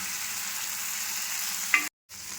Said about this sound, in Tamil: எல்லா மீனையும் இதேமாரி பொரிச்சு எடுத்துக்கலாம்